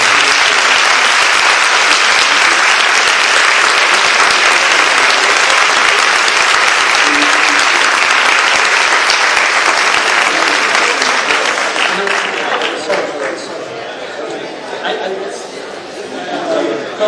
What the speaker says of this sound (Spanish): Por favor, un aplauso para Tate.